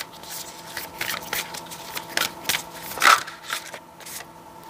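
Tarot-style cards are shuffled and riffled in a series of quick, close bursts of papery flicks, irregularly spaced with short pauses.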